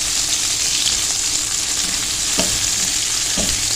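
Green chillies for pickle fry in hot oil with a steady, loud broadband sizzle, broken by two brief stirring scrapes near the end; no voices.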